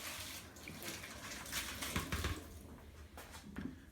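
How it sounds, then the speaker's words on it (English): A bowl rinsed under a running tap in a bathroom sink, steady splashing water for several seconds with changing bursts and spatters as the bowl moves under the stream, close and alone. "give it a quick rinse."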